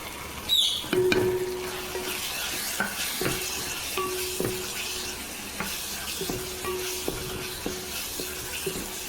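Spice masala with chana masala and turmeric fries and is stirred in a pan, giving a steady sizzle under repeated scraping strokes and light metallic knocks of the spoon against the pan.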